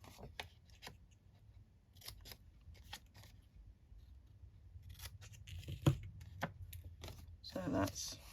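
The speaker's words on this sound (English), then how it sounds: "some snipping. So we just snip there" Scissors snip through paper for a papercraft project, a series of quiet crisp cuts spread through the clip with a few louder snips near the end, recorded close up in a quiet room.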